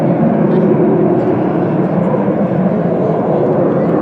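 Red Arrows jet aircraft at the RAF 100 Cosford Air Show, one flying without smoke because of a fault: a steady, loud broadband jet roar that holds throughout without a break.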